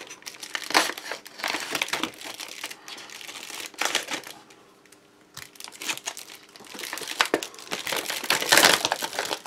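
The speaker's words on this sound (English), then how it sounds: "so I think we'll bring in the trusty knife" Ration box packaging from a Russian home guard and reservist individual ration pack being sliced open with a knife, with crinkling, crunching cardboard and plastic bursts that come and go, a quieter stretch in the middle, then heavy rustling resumes close by.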